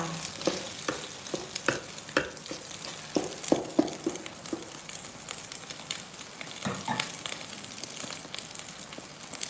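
Shallots stir-fried with egg in a pan for a Lao-style coriander dish, with a steady moderate sizzle broken by repeated clicks and scrapes of a spatula.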